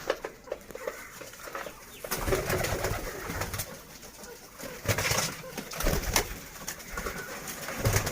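A pigeon coos in low, repeated throaty calls close by, with some rustling and background noise between the coos.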